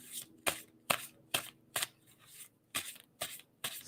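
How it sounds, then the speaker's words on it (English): A tarot deck shuffled by hand at a reading, with a handful of crisp, papery slaps spaced roughly every half second, close up and moderately quiet, with no voices. "And someone to stop shuffling on that."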